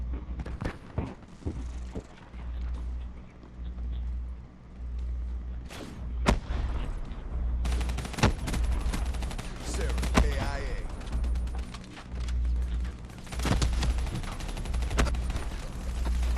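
Gunfire in Black Ops 3 on PS3, online multiplayer, with a Kuda submachine gun fitted with a long barrel: dense bursts and scattered sharp shots that grow into near-constant firing over the second half, loud against a steady low background rumble.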